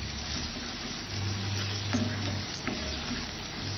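Spiced liver and pumpkin masala is sautéed with black masala, giving a steady, close sizzling hiss with a few faint clicks of stirring and no voices.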